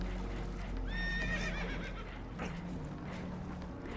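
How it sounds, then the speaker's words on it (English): A spooked horse whinnies loudly and close in Red Dead Redemption 2 as a damaged boat takes on water, one shrill descending neigh over rumbling, splashing background noise, followed by snorts and shuffling. "Horses are spooked, and we're taking on water."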